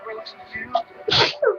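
A single sharp human sneeze bursts out loudly near the end, set amid close indoor conversation, with people talking before and after it.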